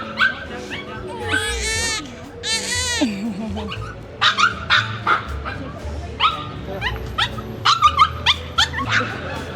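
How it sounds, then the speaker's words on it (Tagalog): A dog whimpers and whines in high, wavering cries, then lets out a series of short yips and barks, close by. "Umiiyak yung dog."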